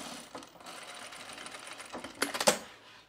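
A sewing machine stitches along the perimeter of a piece, a steady mechanical whir with faint clicks, ending in a louder burst of quick rattling stitches near the end.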